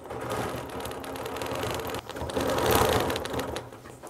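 A sewing machine stitches a quilt along a straight-line quilting ruler, its needle running in a fast, steady mechanical patter that swells slightly in the second half, close and alone.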